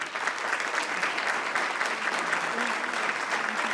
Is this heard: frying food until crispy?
no